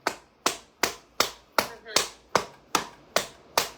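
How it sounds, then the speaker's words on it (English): One person claps their hands very hard and slowly, about ten loud, sharp, evenly spaced claps close by, each ringing briefly in a quiet room with no talking. "Do you hear how hard I clap?"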